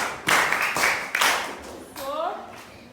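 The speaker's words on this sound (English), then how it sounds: "Clap for her again." A classroom of students claps briefly in two short bursts, followed by a teacher's voice speaking, in a fairly close indoor room.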